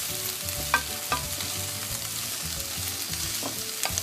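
Vegetarian chow mein with garlic and onions stir-frying in a pan, a constant sizzle broken by a few sharp scraping stirs, near and with no talking.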